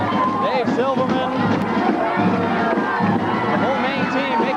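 A huge crowd cheers and shouts in a continuous, dense roar as the Maine hockey team of 1993 arrives home, with whistles and yells throughout and a voice talking over the noise.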